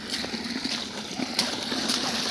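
Water flowing from a motor-driven pump, a steady splashing, gurgling rush close by with occasional louder splatters.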